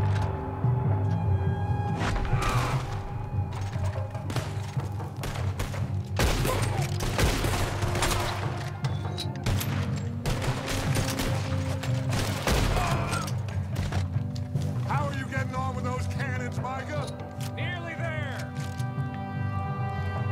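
Gunfire in the video game Red Dead Redemption 2 comes as loud, dense volleys of rapid shots and booms throughout, with a voice speaking over the battle.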